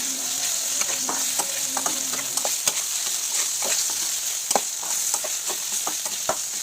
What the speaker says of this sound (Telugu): మీడియం ఫ్లేమ్ మీద పెట్టుకొని ఆనియన్స్ వేయించుకోండి